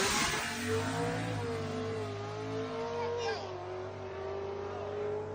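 A drag race car, the black fifth-generation F-body belonging to Mike, roars at high power during a fast pass at an F-body event, its loud, steady engine note sweeping slightly in pitch.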